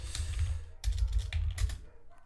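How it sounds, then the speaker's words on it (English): Close, crisp clicks of a computer keyboard as a short command is typed, a quick burst of keystrokes with a brief pause partway through and no voices. "Now we launch the attack by typing arp.spoof on."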